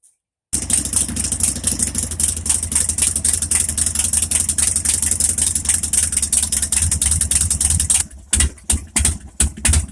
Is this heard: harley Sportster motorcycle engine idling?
yes